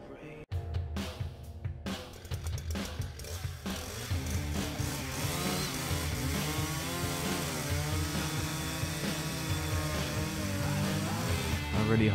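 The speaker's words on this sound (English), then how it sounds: "I'm here to chainsaw you." Chainsaw revving and droning in a horror video game, loud and continuous throughout with a sharp burst near the start, running with no talk.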